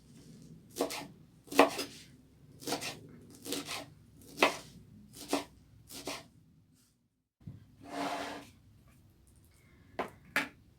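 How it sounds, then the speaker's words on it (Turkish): A knife chops fresh thyme, mint and dill rapidly on a cutting board in short bursts of quick, crisp taps, pausing between runs, close and fairly quiet with no talking. "Kekik, nane, dereotu hepsini bir doğrayayım."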